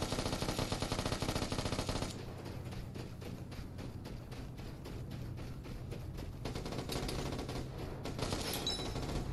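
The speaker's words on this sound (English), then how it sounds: "Holy damn, that's a lot of shooting." Heavy gunfire in the game Vigor: a dense rapid burst of automatic shots, then a stretch of quicker rattling fire and a renewed loud volley, continuous and close with no voices.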